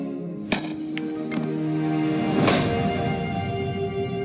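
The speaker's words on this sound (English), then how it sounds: "I'm ready to split it open by hitting very hard on each wedge with a big sledgehammer" In Age of Empires IV, a sledgehammer strikes iron wedges to split quarry stone, giving several sharp metallic clinks with ringing tones, spaced irregularly over a continuous background bed.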